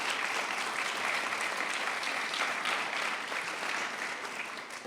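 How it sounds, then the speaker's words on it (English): A crowd at a Jewish Nashville community celebration applauds the Federation office staff, steady dense clapping that holds for about five seconds and tapers slightly at the end. "So I think we need to give them applause also."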